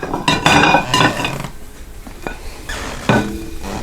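Food served onto a fancy plate with ribs, cream corn and cheesy mac, heard as close dishes and cutlery clinking in short scrapes and taps.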